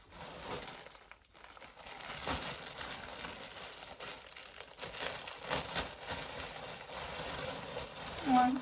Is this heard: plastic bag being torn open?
yes